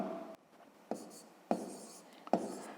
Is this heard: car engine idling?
no